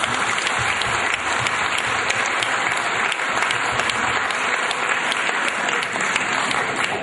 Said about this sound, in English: Please give them a loud applause.